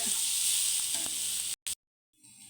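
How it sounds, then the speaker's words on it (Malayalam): Onions sauté in a pan with a close, steady sizzle for about a second and a half, then the sound cuts out abruptly to near silence before a faint sizzle returns at the end. "അത് ഉള്ളി വഴന്ന് വന്നിട്ടുണ്ട്"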